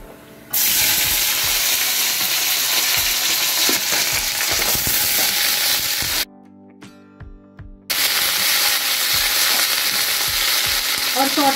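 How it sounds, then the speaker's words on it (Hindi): Beans fry in hot oil with a loud, dense, steady sizzle and occasional stirring clicks, the frying cutting out for about a second and a half before resuming, with no talking. "कर लेती हूँ इनको फ्राई।"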